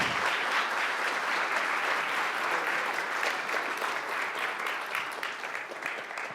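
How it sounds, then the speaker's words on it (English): Audience at an Unreal Engine 4 pipeline masterclass applauding speaker Brian as he takes the stage, a full steady round of clapping that softens slightly toward the end. "let's have a big round of applause for Brian"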